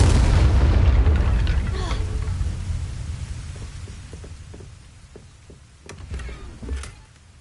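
A deep booming burst from the Incendio fire spell in the game Hogwarts Legacy, loud at the start and fading into a rumbling decay, with a few sharp pops and thuds after it.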